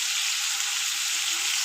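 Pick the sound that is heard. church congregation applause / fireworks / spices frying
spices frying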